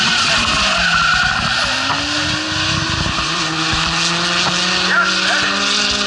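A 1,000-horsepower supercharged V8 race car engine roars loudly and continuously at a tuner car event, with rising and falling revs and tire squeal over a steady mechanical drone.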